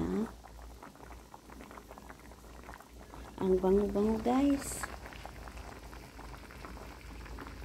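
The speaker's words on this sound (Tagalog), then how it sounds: "kumukulo na siya" A pot of coconut milk bubbles at a steady boil while a person speaks briefly over it.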